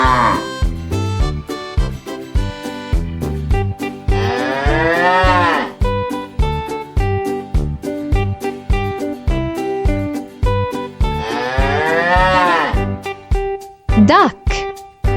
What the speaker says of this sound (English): Cow makes the sound